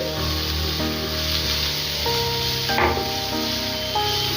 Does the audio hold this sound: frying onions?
yes